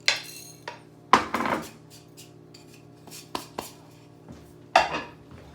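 Metal pan and cutlery clatter as seared pepper-crusted steaks are lifted onto a plate in a home kitchen: several sharp clinks and scrapes, close and fairly loud, with quieter rubbing in between and no talking.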